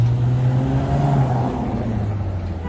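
A car engine hums steadily along a Dubai street lined with luxury cars, a close, continuous drone that holds level and eases slightly toward the end, with no voices over it.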